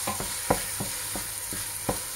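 Tomatoes frying in a pot for a Mauritian crab soup are stirred in several distinct scraping strokes over a steady background sizzle, close and clear, with no talk.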